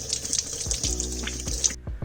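Tap water running and splashing over Suzuki DRZ400SM throttle parts being rinsed clean in a sink, a close continuous gushing stream with dripping and sloshing, cutting off near the end to leave a few drips.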